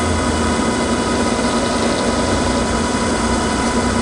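Okamoto OGM-820UB universal cylindrical grinder with its variable-speed work head running at about 150 RPM, a loud, steady, even machine drone with no breaks.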